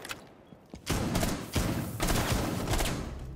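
Rainbow Six Siege gunfire, a couple of quiet shots and then a loud, dense barrage of rapid shots in bursts, with impacts thudding close by and no voices.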